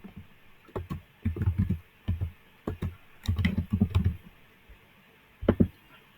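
Bursts of typing on a computer keyboard while entering text for a first HTML page, with irregular clusters of clicky keystrokes separated by short pauses, close and fairly quiet with no talking.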